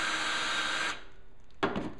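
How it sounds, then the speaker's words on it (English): An electric drill fitted with a countersink runs at low speed to deburr a drilled hole, producing a steady, loud whirring grind. It then stops abruptly and a brief, quieter scrape or burst follows near the end. "take a countersink, electric drill or whatever, put it on low speed, and then just go ahead and"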